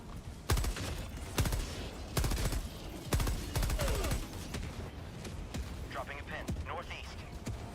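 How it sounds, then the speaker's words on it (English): Mortar strikes in Helldivers 2 during a fight with robots, a series of sharp heavy blasts landing in bursts, some close and loud, with a player talking over the barrage. "That mortar is great"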